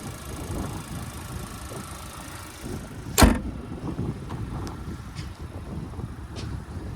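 A 2023 Chevrolet Equinox's 1.5-liter turbocharged four-cylinder engine runs steadily with a low rumble, in cold weather, broken by one sharp click or thump partway through and a few faint ticks.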